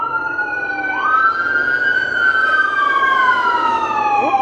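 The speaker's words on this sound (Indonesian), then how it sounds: "Ada ambulan." Ambulance siren passing along a city street in Colombia, a loud wailing tone that rises and sweeps steadily without any talk over it, close and continuous.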